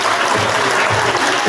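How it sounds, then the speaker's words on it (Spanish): A seated audience at a community education event in Puerto Bermúdez claps loudly and continuously in a dense burst of applause. "¡Fuerte aplausos!"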